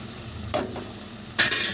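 A spoon scrapes and clinks twice against a pan while spices (salt, turmeric, chili powder, ginger) are stirred together before pasta is added, two short sharp strokes over a low steady hiss.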